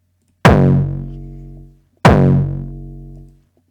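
Two identical hardstyle kick drums, EQ'd with boosted mids and reduced bass, strike about one and a half seconds apart, each a punchy distorted hit with a long tonal tail, loud and alone.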